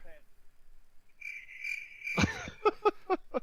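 Crickets chirp in a cricket sound effect, a steady high trill followed by several evenly spaced loud chirps, close and clear with no talking over them.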